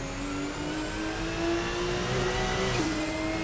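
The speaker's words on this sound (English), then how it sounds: "Amazing how much power this car has. You can hear the turbo." A Porsche 911 GT1-98 racing at the Nordschleife in a racing video game drones with its turbocharged Group C-derived engine. The tone is steady and loud, and its pitch climbs gradually under load before a brief dip near the end, with a faint whine above it.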